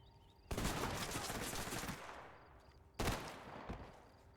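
Two loud, close bursts of video-game shotgun fire in a firefight, each a sharp blast followed by a rolling, fading echo of more rapid shots, with no talking.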